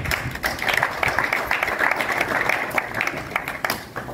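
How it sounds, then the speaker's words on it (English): A group of sports players clap for themselves in a scattered, uneven round of applause, with individual hand claps audible at moderate volume and a few voices faintly underneath. "Players, clap for yourself."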